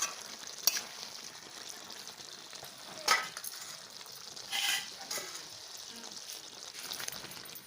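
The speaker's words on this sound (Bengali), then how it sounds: "এখন নাড়াচাড়া দিয়ে নামিয়ে নেব" Turnip curry being stirred in a pan, with a steady low sizzle and a few sharp scrapes of the spoon against the metal, all fairly faint and with no talking.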